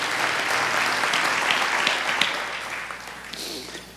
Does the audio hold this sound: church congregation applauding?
yes